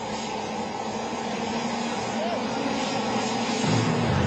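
A Bugatti Veyron and a jet fighter launch side by side in a drag race: a loud, steady roar of jet engine and engine noise builds and swells toward the end, heard from nearby.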